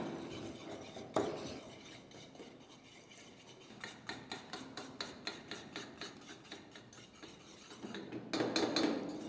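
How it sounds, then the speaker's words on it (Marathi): A spoon stirs a thick sweet mixture with ghee in a pan, producing soft, close scraping strokes that settle into a regular rhythm, then grow louder toward the end. "पॅन पलटून सुट्टूपर्यंत हलवत राहायचं आहे"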